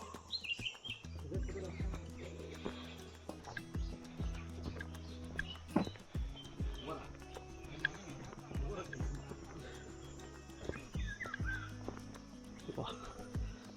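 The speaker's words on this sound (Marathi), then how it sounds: "आपल्याला वेगवेगळ्या पक्ष्यांचे आवाजसुद्धा कानावर येत आहेत" Faint bird chirps and calls scattered in the distance in the forest of Sahyadri Tiger Reserve, mostly beneath nearby voices and outdoor rustling.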